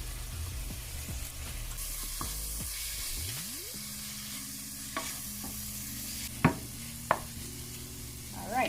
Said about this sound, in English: I'm gonna give this about a minute to fry up the curry.